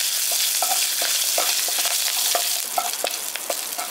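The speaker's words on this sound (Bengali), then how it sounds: "এবার এটাকে হালকা একটু ভেজে নিচ্ছি" Black mustard seeds and about ten curry leaves frying briefly in hot oil for a sooji pakoda tempering, a loud continuous sizzle punctuated by repeated scraping stirs of a spoon in the pan.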